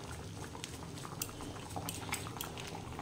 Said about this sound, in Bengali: ডাল একদম টকবক করে ফুটছে, প্রায় শেষের দিকে।